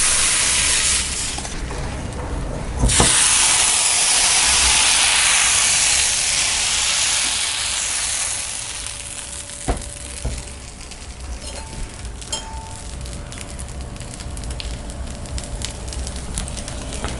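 Appam batter poured into a hot cast-iron kadai sets off a loud, close, broad hissing sizzle that swells just after the pour, holds strongly for several seconds, then eases to a quieter steady fizz with a few small clicks.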